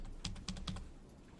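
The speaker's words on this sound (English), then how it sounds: "if I hit S, go to the next key, S, next key" Three quick computer keyboard key presses tap out in a steady rhythm while keys are stepped through in animation software, close and fairly quiet, with no voices.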